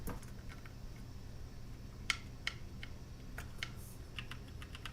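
Rapid, fairly quiet keystrokes on a Das X40 mechanical gaming keyboard with tactile, non-clicky switches, producing irregular soft taps with a few sharper key bottom-outs, heard alone without talking.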